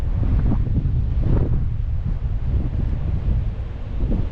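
Wind gusting across a harbor at high tide in Bar Harbor, Maine, in late March, whipping up whitecaps; a steady, loud roar of wind buffeting the microphone, with rising and falling gusts and no talk.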